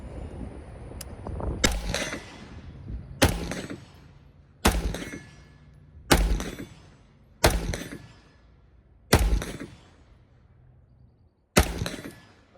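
Seven sharp, loud rifle shots from a PSA rifle fired at a target, evenly spaced about a second and a half apart, each crack followed by a short decaying echo outdoors.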